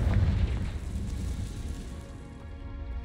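A Confringo fire spell going off in Hogwarts Legacy, with a low, rumbling blast at the start that settles into a crackling, fading roar without any voice.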